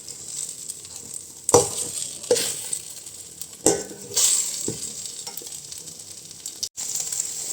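Green pepper and egg being stir-fried in a pan, with a continuous sizzle and several sharp scraping stirs of a spatula against the pan, close and fairly loud.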